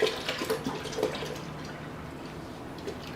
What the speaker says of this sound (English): I'm simply going to pour in the 1 gallon of milk